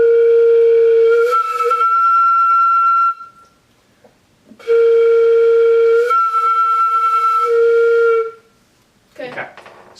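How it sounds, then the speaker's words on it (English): Two long sustained flute tones in a harmonic slur, each holding a low partial and then sliding up to a higher one, separated by a short pause. "So we're going to do a harmonic slur."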